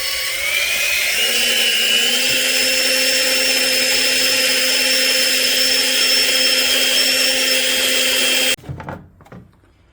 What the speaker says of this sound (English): Now I'm going to add some yeast, stir it up.